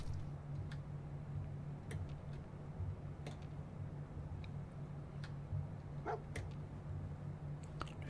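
A dog barks in Fallout 4: a few short, faint barks scattered over a steady low ambient game hum, with no one talking.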